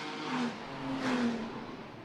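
Toyota GT4 race cars circulate together on the Macau street circuit during qualifying, engines whirring and rising in pitch as they pass at a distance, a steady motor drone swelling and fading with no voices.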